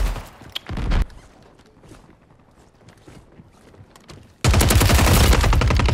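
SVA 545 rifle gunfire in Warzone 3: a short burst of loud close shots at the start, a quieter stretch of faint game noise, then a sustained rapid automatic volley that runs dense and loud to the end.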